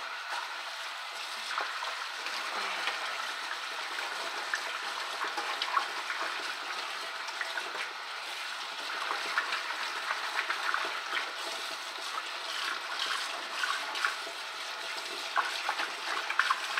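Water runs steadily from a tap as a cleaning cloth is rinsed, a continuous close hiss and trickle with no voices.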